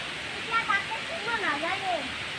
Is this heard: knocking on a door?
no